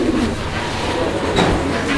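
Red checker racer pigeon cooing close by, a steady low throaty murmur filling two seconds with no talk over it.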